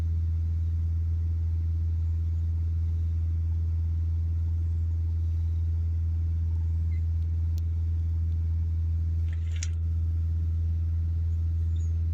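Peugeot Expert 2.0 van engine with a particle filter fault, held at about 2,500 rpm in restricted mode, gives a steady, unbroken drone throughout with no voices.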